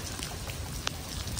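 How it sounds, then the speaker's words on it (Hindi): Light rain patters steadily on a rooftop during a rainy day, a soft, even hiss of drops with a few brighter taps standing out, close by and with no talking. "बरसात हल्की हल्की अब हो रही है"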